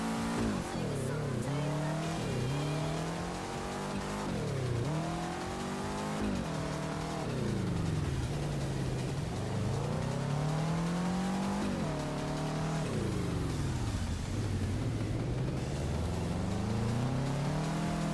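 A car drifts through mountain-pass curves in the VR racing game Touge Shakai. The engine revs rise and fall continuously in sweeping waves, with tire squeal, loud and unbroken, under occasional talk.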